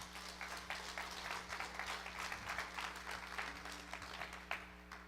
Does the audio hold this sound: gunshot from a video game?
no